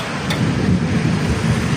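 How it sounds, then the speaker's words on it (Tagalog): Hail falling during a storm in Asir, Saudi Arabia: a dense, continuous roar of ice pellets pelting surfaces, loud and close, with a brief sharp impact early on. "Bagsakan na naman ng yelo guys."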